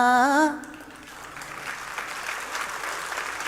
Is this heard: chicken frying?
no